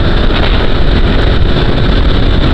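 A KTM RC 200 motorcycle accelerating hard on an open road: a steady, loud engine roar throughout, heavily mixed with rushing wind buffeting the microphone.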